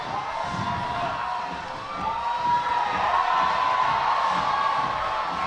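A crowd at a national climbing championship cheers on climber Michaela Kiersch, a steady roar of cheering and shouts that swells louder midway, heard from a distance.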